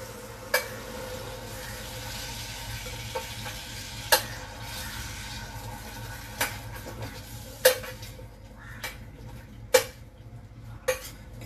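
Roasted okra is mashed in a pan with a little oil, soft scraping and stirring punctuated by sharp metallic clinks of a utensil against the pan at irregular intervals over a faint sizzle.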